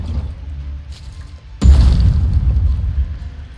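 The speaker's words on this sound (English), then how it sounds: "this is what the fragmentation grenades do." Fragmentation grenades detonating in a turn-based video game: a sudden loud boom about halfway through, followed by a sustained low rumbling blast that fills the rest of the moment, with a quieter low rumble beforehand.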